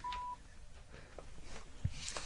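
Telephone dialing tones on loudspeaker, a brief steady tone at the start followed by faint scattered beeps and background noise.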